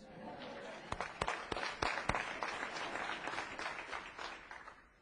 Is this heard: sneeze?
no